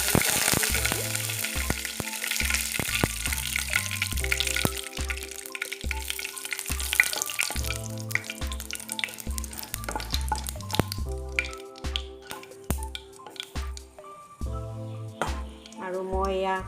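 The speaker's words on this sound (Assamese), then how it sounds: "আৰু মই এয়া কালজিৰা দি দিছোঁ" Nigella seeds sizzle in hot mustard oil in an Assamese kitchen, a steady close crackle running throughout with background music over it, while red spinach curry is being made.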